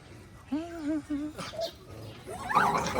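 A dog that has just given birth whimpers and yips in a few short, rising cries, fairly close, with someone talking nearby.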